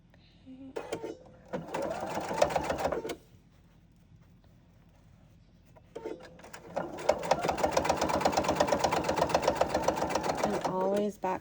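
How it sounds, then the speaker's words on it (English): A sewing machine top-stitches the closing seam of a homemade potholder in two runs: a short burst of rapid needle clatter, a pause, then a longer steady stretch of stitching, close and clear. "So go ahead and top stitch it, just closing the opening."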